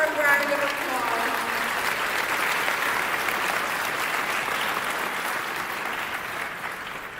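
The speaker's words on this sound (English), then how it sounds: "Give him a round of applause." An audience at a chess open tournament breaks into applause, loud and dense at first, holding steady and easing slightly toward the end, with a voice briefly heard at the start.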